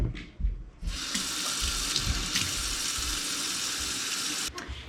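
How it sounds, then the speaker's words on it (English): A kitchen sink tap runs steadily and loudly while a sanded tumbler is washed with Dawn dish soap, with water splashing and spraying continuously and faint clinks of handling underneath. "after you've sanded, you are gonna wanna wash with Dawn dishwashing soap"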